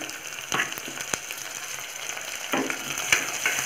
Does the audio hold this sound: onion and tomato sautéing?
yes